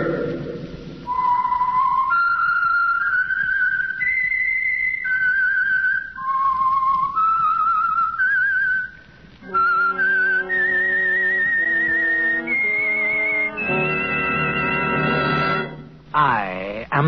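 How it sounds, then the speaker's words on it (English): A clear, loud whistled theme tune from a 1949 radio drama, the notes rising and falling steadily, ending in a higher wavering note. "That whistle is your signal,"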